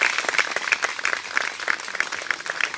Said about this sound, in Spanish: les pido que le regalemos un fuerte aplauso a estos hermanos